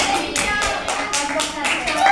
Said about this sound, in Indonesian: Tepuk ke kelompok 2